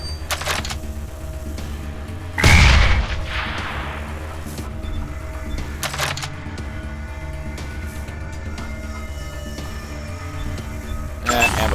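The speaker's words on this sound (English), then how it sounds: "Throw a grenade." A grenade blast in the game Wasteland 2 erupts sharply and loudly, then trails off into a decaying rumble over ongoing game ambience, with another burst near the end.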